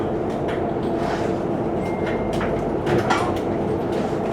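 Steady rumbling drone inside the Eurotunnel shuttle train carrying vehicles, a continuous low roar with faint knocks and rattles of the carriage, no voices.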